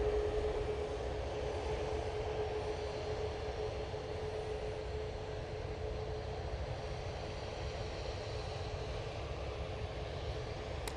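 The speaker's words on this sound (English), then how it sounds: "A350-900 now arriving" Airbus A350-900 airliner on arrival at Manchester Airport, a steady broadband roar of jet engines holding level and continuous throughout at moderate distance, with no voices.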